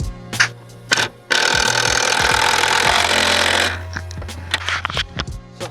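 A power tool fastening bull bar brackets onto a wagon: a sustained loud whirring burst of about two and a half seconds, framed by short mechanical clunks and knocks close by.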